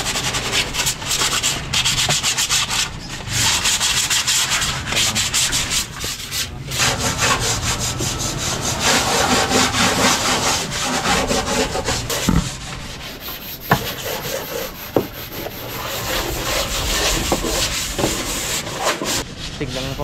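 Wood is sanded by hand with sandpaper in steady back-and-forth rasping strokes, close and continuous, with a few sharp knocks along the way.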